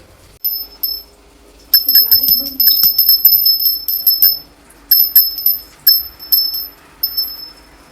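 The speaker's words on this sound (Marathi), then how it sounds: "ती घंटी घे ना." A hand bell rung during a home puja, bright rapid ringing in bursts with short pauses, close and loud, with brief voices in the background.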